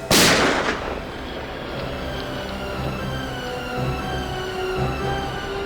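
A single sharp gunshot cracks loudly at the start, then fades into a lingering reverberant rumble with faint tonal hum; no voices follow.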